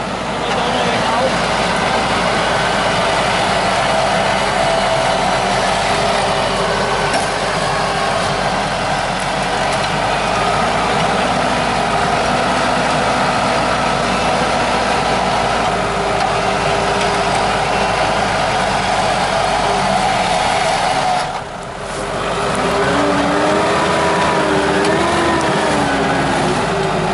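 A Mitsubishi Pajero stuck in mud off-road drones loudly and steadily under spinning tyres, with the engine note briefly dipping late on and voices talking over it.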